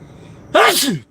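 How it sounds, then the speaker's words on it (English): A single loud sneeze bursts out close by after a moment of near quiet, sharp and brief. "I gotta sneeze."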